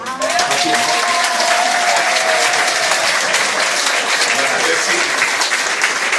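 A crowd claps enthusiastically, a dense, loud wash of applause that holds steady for several seconds, with some voices briefly audible at the start.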